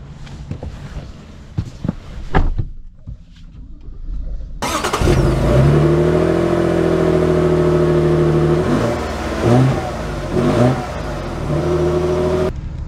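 A 2024 Toyota Tundra Platinum pickup truck starts moving after a quiet moment, its engine rising into a loud, deep humming rumble with revs that climb and settle as it pulls away close by.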